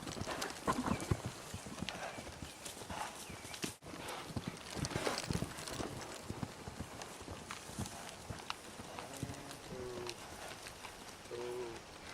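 A horse wearing a newly placed saddle moves about, its hooves thudding and clip-clopping irregularly on the ground nearby, with a few faint snorts and brief voices near the end.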